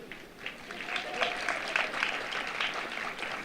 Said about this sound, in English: You notice that's the faculty who clapped first, right?